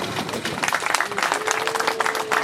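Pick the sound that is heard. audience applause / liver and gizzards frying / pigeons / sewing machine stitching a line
audience applause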